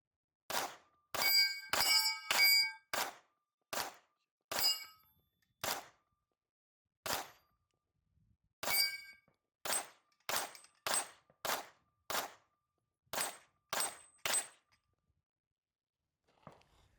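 Pistol shots from a Staccato XL ring off steel targets in sharp bursts, each crack followed by a bright metallic clang, some fired in quick doubles and triples with short pauses between, loud and close outdoors.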